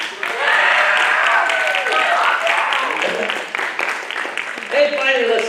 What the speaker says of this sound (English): round of applause for Riley.